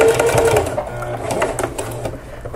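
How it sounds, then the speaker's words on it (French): Sewing machine stitching through thick layered fabric while sewing an apron, a fast close mechanical whirr with rapid needle clatter running continuously for a couple of seconds. "je vais aider la machine à apporter le tissu vers l'arrière parce que j'ai beaucoup d'épaisseur à cet endroit-là"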